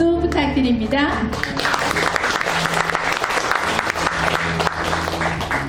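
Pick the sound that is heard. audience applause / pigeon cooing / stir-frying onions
audience applause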